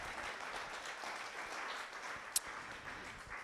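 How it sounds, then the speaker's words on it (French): A seminar audience claps for a speaker after a colloquium talk on French horsemanship. The applause is a steady, soft patter of many hands throughout, with one brief sharp clap or click near the end. "Merci Guillaume Henry, on vous applaudit chaleureusement."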